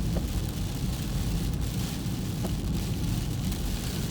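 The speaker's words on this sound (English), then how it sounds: "So the rain has started." Steady broadband rain hiss blends with low road rumble inside a moving car, continuous and fairly loud throughout, with no talking.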